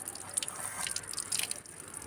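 Water runs steadily from a household tap in a soft, continuous trickle with faint dripping, fairly quiet and close, with no voices.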